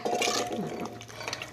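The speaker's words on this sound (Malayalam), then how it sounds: "നീരുണ്ടാവാൻ വേണ്ടി വെള്ളം ഒഴിച്ചു കൊടുക്കുന്നുണ്ട്" Water poured into a tomato curry cooking in a pan, a short close gush and bubbling that gurgles and settles into a lighter simmer.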